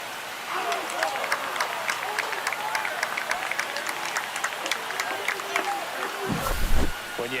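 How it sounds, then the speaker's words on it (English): Home crowd in a ballpark cheering and clapping after a home run in the video game MLB The Show 26, a steady wash of applause with scattered claps and a brief louder burst near the end. "He just sparked this home crowd in a big way."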